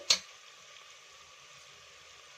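Spices frying in a pan for kushka rice, a steady soft sizzle that runs on alone after one brief louder clatter at the start.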